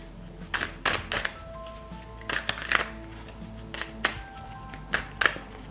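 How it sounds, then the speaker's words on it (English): Rider-Waite tarot deck being shuffled by hand, a series of crisp, close riffling and tapping bursts in irregular clusters with brief quiet gaps, no talking. "So I'll give these a shuffle."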